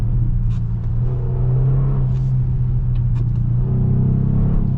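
A 2022 Kia Stinger GT engine with active sound design through the speakers hums with a steady, low rumble and a deep droning tone that swells slightly toward the end; a faint voice murmurs underneath.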